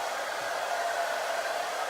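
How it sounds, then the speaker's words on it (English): A hair dryer blows with a steady, even whoosh, close by and continuous, with no voices. "put my dryer back on"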